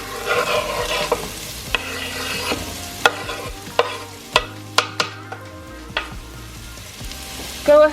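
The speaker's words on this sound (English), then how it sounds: "I can hear the oil starting to heat up, so I'm gonna go ahead and add in my onion." Chopped onions frying in olive oil hiss softly in a pan while a utensil stirs them, with a series of sharp clacks and scrapes against the pan, close up and with no talking.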